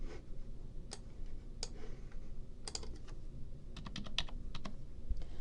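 Computer keyboard keys tapped in sparse clusters of light clicks over a steady hum, close and quiet, with no speech.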